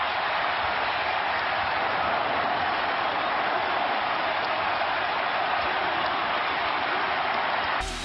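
An arena crowd of over 22,000 roars and applauds at the Palace during the final seconds of a 2004 NBA playoff game, a deafening, unbroken wall of cheering that stays constant throughout.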